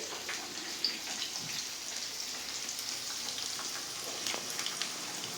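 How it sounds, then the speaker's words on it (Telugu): Tempering (tadka) for tomato chutney sizzles steadily in hot oil, a constant crackling hiss with a few sharper pops, close and moderately quiet, with no talking. "టమాటా పచ్చడి తాలింపు పెడుతున్నాను ఇదిగో చూడండి"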